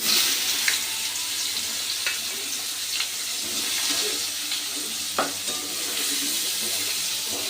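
Pieces of raw jackfruit fry in a pan of hot oil, giving a steady close sizzle with a few scattered pops and scraping stirs along the way.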